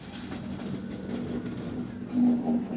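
Kashi Vishwanath Express passenger train running on rails between Delhi and Banaras, a steady low rumble of rolling wagons with a faint rhythmic clack, swelling slightly louder near the end.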